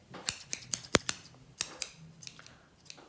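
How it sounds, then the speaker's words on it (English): Close, crisp snips of scissors cut through packaging in a quick irregular series, fading to a few lighter clips at the end. "we got some scissors here. So I'm going to go ahead and open this up here"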